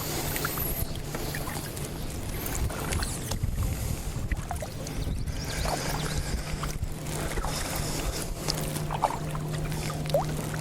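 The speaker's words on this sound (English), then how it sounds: "I've already had a couple of boats pass by. I hear another one in the distance." Distant motorboat passing while paddling on a quiet waterway, a low steady engine drone running faint under soft water trickles and light ambient rustle, with no talking.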